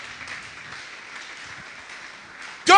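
Church congregation applauding Jesus during a sermon, a steady patter of clapping filling the room before a sudden louder burst at the end.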